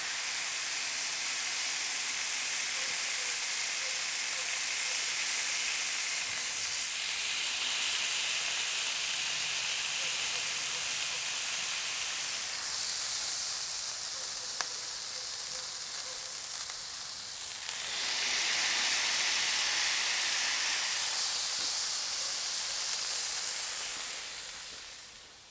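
Cheeseburger patties sizzle on a hot griddle, pressed down as they cook fast, a loud continuous frying hiss that surges in bursts, close and without talk.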